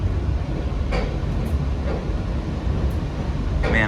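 An Adirondack Railroad train rumbles low and steady as it rolls over a crossing on a winter day, with a few brief higher squeals and clanks riding over the continuous rolling noise.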